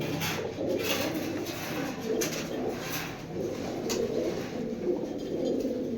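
Pigeons, including silver racing birds, coo repeatedly in soft low murmurs over a steady background hiss, with a few faint clicks scattered through.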